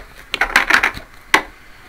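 A deck of tarot cards is shuffled in a few quick riffling bursts, close and crisp, followed by a single sharp snap as the cards settle.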